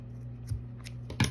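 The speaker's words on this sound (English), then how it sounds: "then we really can just cut the tail end" Scissors snip the yarn tail on the end of a knitted scarf: a couple of quiet, close crisp cuts within a brief moment of near silence.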